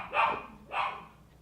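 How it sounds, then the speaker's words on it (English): Two sharp dog barks ring out about half a second apart indoors at moderate volume, each a single clipped woof, followed by quiet. "Sorry about my dogs."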